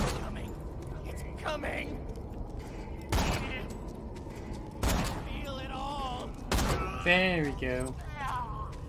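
Bursts of video game gunfire in Borderlands 2, a few sharp shots and short volleys spaced a second or two apart, mixed with game sound effects and voices talking.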